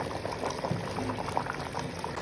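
A pot of chicken and pumpkin curry simmers on the stove, giving a soft, continuous bubbling with small pops, quiet and steady throughout with no talking.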